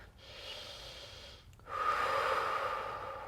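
During prenatal yoga, a person takes slow deep breaths close to the mic: a long airy exhale, a short pause, then a louder drawn-in breath.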